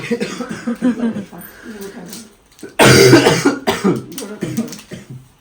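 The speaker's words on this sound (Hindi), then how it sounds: "खांसी देखो इस लड़के की।" A person gives a burst of harsh, loud coughs partway through, with murmured voices and rustling noise before and after.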